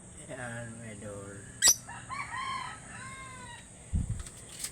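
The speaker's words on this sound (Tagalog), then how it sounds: "Yan ang mga ibon ko." Pet African birds call nearby with throaty clucking and crowing-like notes and one sharp squawk, while a person speaks briefly between the calls.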